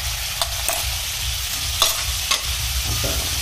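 Spiced masala with red chilli powder, garam masala and coriander-cumin powder stirred and roasted in a pan, giving a steady close sizzle broken by a few scraping strokes of the spoon, with no voices.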